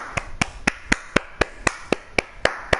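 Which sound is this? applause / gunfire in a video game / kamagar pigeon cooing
applause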